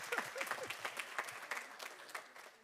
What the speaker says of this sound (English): Yes, you should applaud for that.